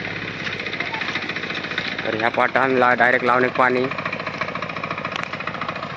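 A power tiller engine chugs steadily throughout with a rapid knocking rhythm during rice-field work, while someone talks loudly over it in the middle.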